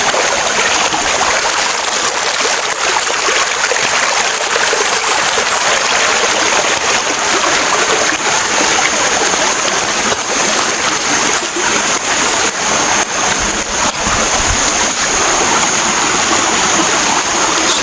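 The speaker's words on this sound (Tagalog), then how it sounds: "Ito siya, maliit to siya na ilog tol." A small river flows steadily with a loud, continuous rushing wash of water, close by and unbroken throughout, with no voices.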